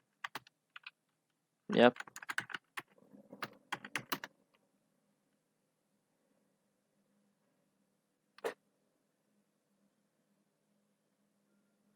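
Computer keyboard typing as an email and password are entered to sign in to Autodesk, a quick cluster of keystrokes with a brief spoken word before it and a single later click, the rest near silence.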